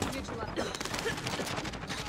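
Shotgun fire in the video game Call of Duty Modern Warfare, a dense stretch of loud gunfire amid battle noise, with other shots mixed in and voices talking over it.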